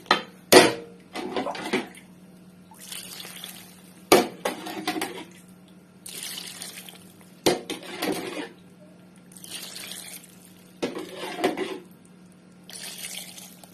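A glass jar being handled for pickling lemons in a kitchen, with sharp clinks and knocks recurring in bursts every second or two, mixed with splashing water and sink sounds, close and moderately loud.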